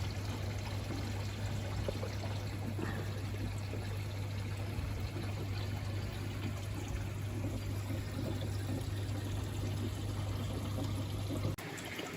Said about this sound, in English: I'll take it up a lot higher now, the water.